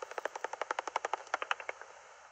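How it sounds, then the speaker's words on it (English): Pipistrelle bat echolocation calls converted by a bat detector into rapid, evenly spaced clicks, like steady clapping at roughly a dozen per second, fading slightly toward the end. "it should sound like constant clapping until they get close to their prey"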